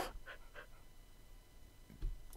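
A dog pants quietly in short rhythmic breaths in the Minecraft video game, faint and close, with a brief thump near the end.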